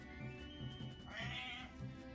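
A house cat meows once, a faint, drawn-out call heard alone over a low steady background hum indoors during a first winter in Canada.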